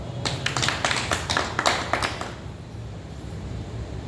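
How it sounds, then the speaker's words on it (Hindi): A burst of sharp hand claps, several quick irregular slaps in the first two seconds, then falling away to room quiet. "ताली बजाओ एक बार"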